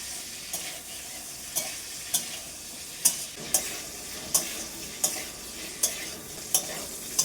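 Cauliflower pieces frying in a pan, a soft continuous sizzle broken by regular bright scraping clinks of a spatula stirring, roughly every half second, close and fairly quiet.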